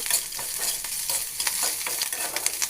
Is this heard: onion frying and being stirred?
yes